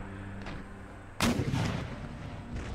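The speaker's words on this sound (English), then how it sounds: "Whoa, shrapnel shot." Artillery shrapnel shot in the strategy game Empire: Total War, a sudden loud blast that breaks over a low background rumble and decays into a rolling, crackling burst lasting over a second.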